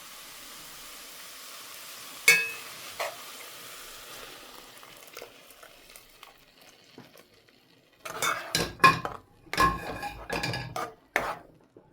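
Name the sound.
stirring bottle gourd halwa in a pot with milk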